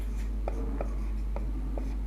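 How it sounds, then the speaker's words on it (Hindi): Short, scratchy strokes of chalk or marker on a classroom board as a chemical reaction between BF3 and NH3 is written out, four or five distinct taps and scrapes over a steady low room hum. "इसको मैं ऐसे लिखता हूं"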